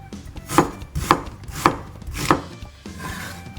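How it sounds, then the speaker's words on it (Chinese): A knife chops onions on a cutting board while preparing braised beef brisket, landing four crisp, evenly spaced strokes close by, with no talk. "切洋蔥哦"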